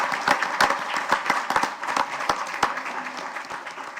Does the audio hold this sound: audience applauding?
yes